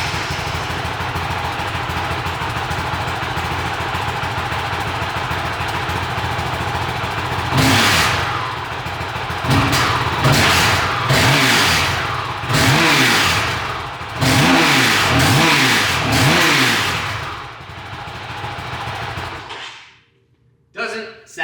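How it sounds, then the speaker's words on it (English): A 2025 Honda CRF450X dirt bike with stock exhaust idles steadily nearby, then revs in several sharp throttle blips rising and falling before the engine cuts off. "let's start the bike up and do an initial stock exhaust check"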